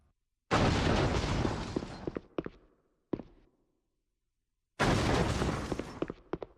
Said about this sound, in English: So we just run back and forward and we just spam these canister bombs at them.